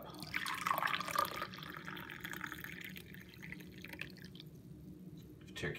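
Hot turkey tail mushroom tea is poured from a pot into a cup, giving a steady liquid trickle and splash that is strongest at first and then eases off, with no talking.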